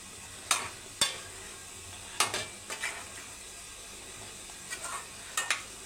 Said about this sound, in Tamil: மூடி போடாமல் வதக்கி எடுத்துக்கோங்க